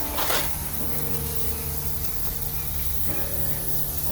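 Short hissing spray bursts as cleaner is sprayed onto a cold Mercedes-Benz engine, a strong burst at the start followed by steadier spraying, close and clear.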